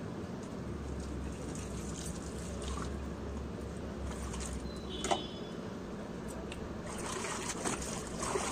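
Pochampally handloom yarn hanks are washed and beaten in water, giving a steady wash of sloshing and splashing with a low hum underneath. A brief sharp clink stands out partway through.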